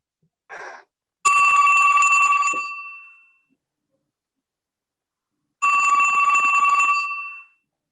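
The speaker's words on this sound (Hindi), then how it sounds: "दूसरी तरफ घंटी बजने लगती है" A telephone rings on the other end of a call, with two long electronic trilling rings separated by a pause of about three seconds and a brief softer chirp just before the first.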